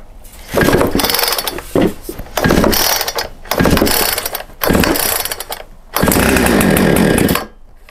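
Husqvarna 455 Rancher chainsaw being pull-started: five loud, close rips of the recoil starter cord, each a harsh mechanical rasp with brief gaps between pulls, the engine not catching.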